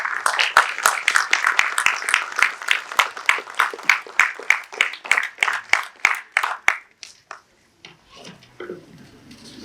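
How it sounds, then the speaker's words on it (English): An audience at a panel event gives the speakers a loud round of steady, rhythmic clapping that carries for several seconds, then breaks up and fades into scattered claps and quiet room noise. "let us express our appreciation with a bigger round of applause for our speakers, Karon Shaiva, Ms. Rasheeda Bhagat"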